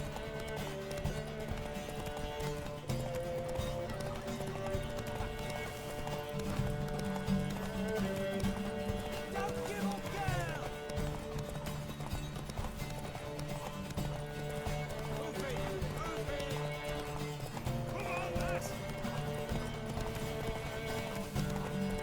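Horse galloping in The Witcher 3 video game, steady rapid hoofbeats under dense game music, with a whinny breaking through once or twice, fairly faint in the mix.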